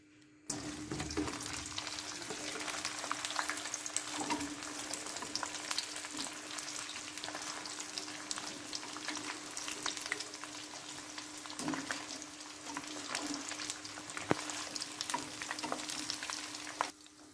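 Cauliflower Manchurian pieces re-fry in hot oil over a high flame, giving a constant dense bubbling sizzle that runs unbroken throughout, with occasional light knocks.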